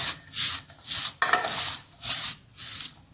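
Butter paper pressed into a cake pan and greased with butter by hand, heard as repeated soft, close rubbing and rasping strokes in steady bursts, with no talking.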